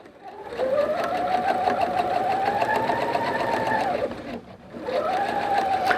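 A sewing machine stitches a curve on jeans, running in a close, steady mechanical whir for about four seconds, pausing briefly, then starting up again.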